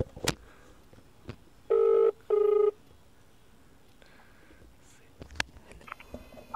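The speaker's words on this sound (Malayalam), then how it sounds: "ഇപ്പം നമ്മളൊന്നോട് വിളിക്കുന്നേ." A phone placing an outgoing call plays two clear ringback tones in quick succession, with scattered clicks and knocks before and after in a quiet room.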